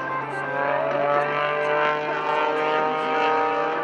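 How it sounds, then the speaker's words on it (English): Panzl aerobatic propeller airplane built by Greg Panzl performing at an air show, a steady loud engine drone with strong harmonic whine holding throughout, no talk. "John flying the Panzl, getting its name from the builder, Mr. Greg Panzl"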